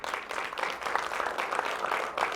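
A church congregation claps together in a steady burst of applause, filling the room evenly for a couple of seconds with no talk over it.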